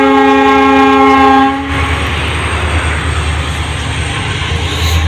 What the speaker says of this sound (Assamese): এইয়া আৰু আগত ট্ৰেইন আহি আছে